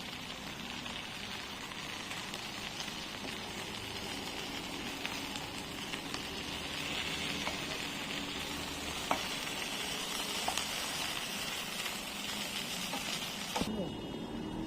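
Hilsa patturi wrapped in banana leaves fries in a covered pan and gives a continuous crackling sizzle with occasional sharper pops and scraping as it is turned. A voice speaks quietly over the frying.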